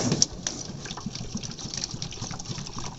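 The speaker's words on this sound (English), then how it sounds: "I'm going to water in there." Water pours from a watering can into potted dahlias in a sunroom, a soft continuous splashing and gushing at close range for a few seconds, with no talking.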